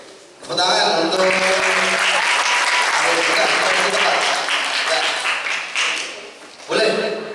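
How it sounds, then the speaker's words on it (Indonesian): An audience of high school students claps during a school outreach session, a loud sustained burst of applause lasting several seconds before fading, with a voice speaking briefly at the start and end. "Tepuk tangan untuk"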